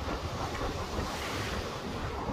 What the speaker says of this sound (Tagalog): ang lakas ng alon ng dagat